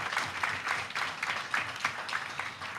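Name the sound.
audience applause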